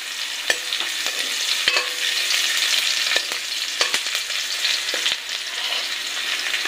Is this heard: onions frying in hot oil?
yes